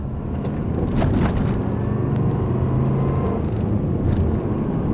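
Race cars on the out lap, the warm-up lap before the first ice race of 2010, a continuous loud engine drone with crunching tire noise on the ice, heard close from inside or near the car.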